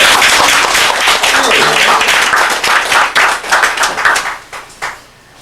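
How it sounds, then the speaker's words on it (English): An audience at a lecture-style evening event claps in sustained applause, dense and loud, gradually thinning into scattered claps before fading out at the end. "Let's give him an acknowledgement, a round of applause."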